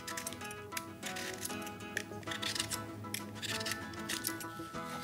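A knife roughly chops turnips on a cutting board for a pot-au-feu, quiet and close, with a quick run of crisp, irregular cuts and clicks and no talking.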